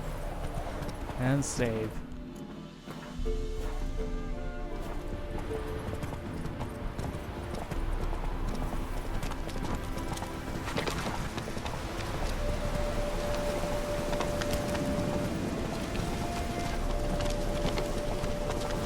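Roach, a horse in The Witcher 3: Wild Hunt, clip-clops along in a steady hoofbeat rhythm under game music, with a voice speaking briefly over it.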